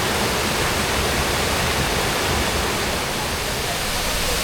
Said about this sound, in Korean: 지금 여기 보이는 곳은 삼보 폭포입니다.